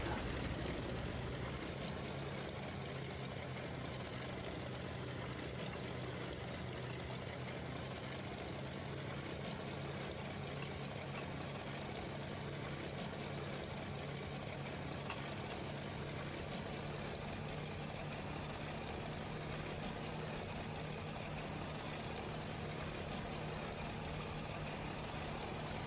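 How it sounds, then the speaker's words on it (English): Beaver floatplane engines run steadily in Roblox Aeronautica, a continuous low droning hum with a faint higher whine, fairly quiet and unbroken throughout. "Let's start the engines."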